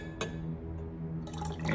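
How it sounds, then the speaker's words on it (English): Aqueous sodium hydroxide solution poured into a container in a chemistry demonstration, heard as a steady close liquid pour with a brief splash near the start and a brighter gurgle toward the end. "So I'm going to pour in my aqueous solution of sodium hydroxide,"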